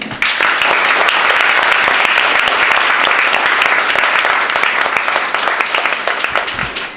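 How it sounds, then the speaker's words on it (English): Sustained, dense applause from a pitch night audience for the judges, loud and steady for several seconds before slowly tapering off. "So let's give them an applause."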